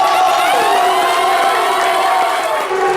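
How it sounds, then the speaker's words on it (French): A studio audience at a French daytime TV show cheers and applauds loudly, a dense, sustained roar of clapping and whoops that fills the whole stretch without letup. "Applaudissez-vous bien fort, applaudissez-vous."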